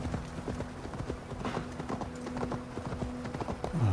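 Steady clip-clop of horse hooves trotting at an even rhythm in Assassin's Creed Valhalla, fairly close, with a low hum underneath.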